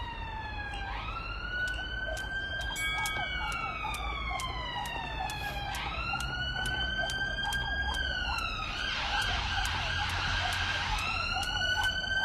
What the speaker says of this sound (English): Apologies for the sirens, but we are in Peckham.